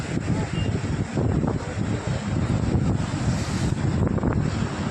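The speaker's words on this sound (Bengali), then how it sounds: "আমি যতদূর জানি এটা তিস্তা নদী।" The Teesta river seen from a Sikkim viewpoint, heard as a continuous roaring rush of water mixed with heavy wind buffeting the microphone, loud and steady throughout.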